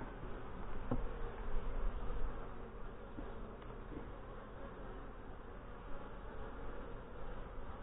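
Honey bees buzz steadily at close range as a hive is opened for a late-September inspection, a dense, continuous drone with no talking.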